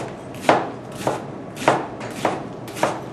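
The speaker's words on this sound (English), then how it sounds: "So I'll just finish chopping up this cabbage here." A kitchen knife chops cabbage on a board for coleslaw, five crisp evenly spaced thuds about half a second apart, close and clear with no talking.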